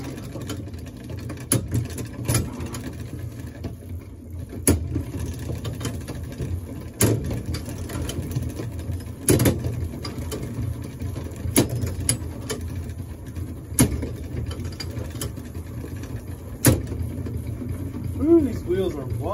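A spring-powered rolling tabletop chassis whirs with a steady mechanical buzz of spinning wheels and gears, punctuated by periodic sharp clicks and knocks, close by.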